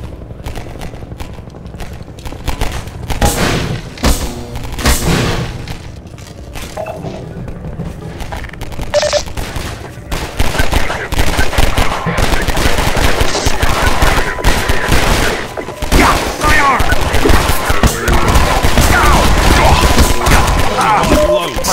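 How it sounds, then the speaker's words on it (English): Loud, sustained gunfire from the video game Half-Life 2 in the Synergy co-op mod comes in dense, rapid bursts. The fire turns heavier and more continuous in the second half. "Am I trigger happy or am I the only one actually shooting stuff?"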